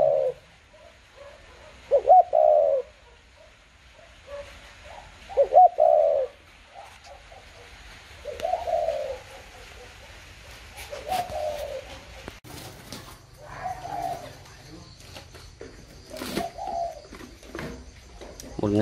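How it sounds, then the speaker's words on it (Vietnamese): Young pigeon or dove chicks waiting to be hand-fed before being shipped, giving repeated close cooing calls in short bursts, with quieter rustling and a person talking in between. "Đây là những chú chim non thì em phải bón trước khi gửi đi."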